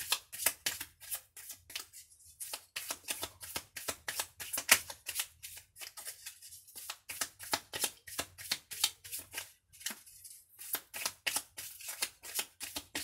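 Tarot cards are shuffled close up in a fast, continuous riffling rhythm of crisp papery bursts, with only brief pauses and no talking.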